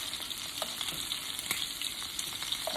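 Shrimp cook lightly in a frying pan, a steady fairly quiet sizzle with a few faint pops and small spatula clicks, close by and with no talking.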